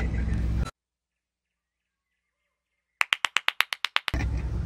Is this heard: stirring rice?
no